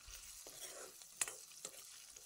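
Spices frying in a pan with ginger-garlic paste, turmeric, salt and red chili give a faint, steady sizzle, broken by a few soft scraping stirs.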